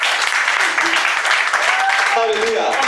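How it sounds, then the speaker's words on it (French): A church congregation claps and cheers during a sermon in a steady, loud wash of applause, with voices calling out over it throughout. "Clap for Jesus."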